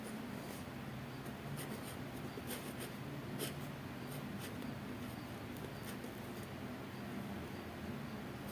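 A formula being written by hand, soft intermittent pen scratches over a steady background hiss, with no talk.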